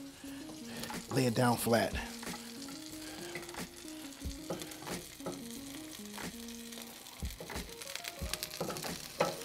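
Bread toasting in a hot pan with mushrooms and tomatoes gives a soft, steady sizzle with a few clattering scrapes and stirs near the start, while someone talks throughout.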